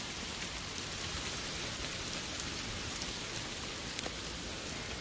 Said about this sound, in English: See the little hailstones?